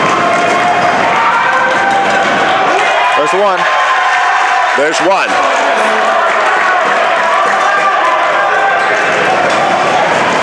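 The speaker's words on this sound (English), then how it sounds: "If you're the crowd, here comes the stomps." A college men's basketball crowd stomps in the stands during free throws, a loud, dense wall of arena noise that runs throughout while a commentator talks over it.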